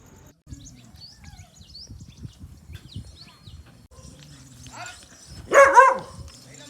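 A dog on a Gir cattle farm barks in a short, loud burst near the end, with faint bird chirps and rustling in the background before it.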